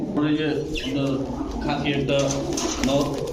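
Pigeons coo at a pigeon market among Pakistani Teddy, Golden and similar breeds, soft repeated coos close by under constant talking.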